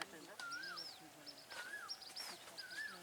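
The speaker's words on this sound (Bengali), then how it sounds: "ওই বাহ কোকিলের ডাক কত সুন্দর" An Asian koel calls near a pond where people are fishing for catla, giving three faint, evenly spaced rising whistled notes over soft background noise.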